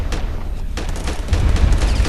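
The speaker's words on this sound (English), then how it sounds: "I can hopefully get some heavy cannon fire on them" Heavy cannon fire in the space game Starfarer comes as a rapid run of close, punchy booms, building to a denser, louder roll in its second half, with no voices.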